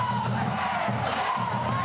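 Spectators in the stands at Viking Stadium for a Huffman vs Pinson Valley high school football game, a steady, full murmur of crowd noise with scattered shouts rising through it.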